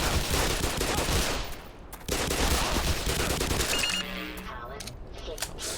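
Gunfire in the shooter game Black Mesa crackles as dense, continuous bursts of rapid shots, with a brief lull around two seconds and thinner fire toward the end.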